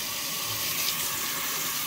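Running water for soaking freshly harvested roselle hibiscus calyces, a steady close hiss like a tap filling a sink, continuous and fairly loud throughout.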